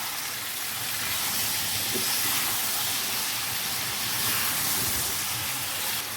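Diced potatoes, peas and carrots sizzle while being roasted in a pan, a loud, continuous hissing crackle that swells slightly and holds steady with no talking.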